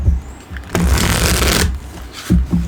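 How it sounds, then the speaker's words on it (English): A deck of tarot cards is shuffled close up in a burst of dense riffling and flapping of just under a second, with a few soft handling taps before and after. "It shuffles just fine."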